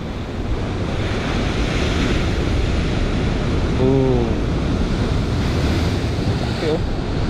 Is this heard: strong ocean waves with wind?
yes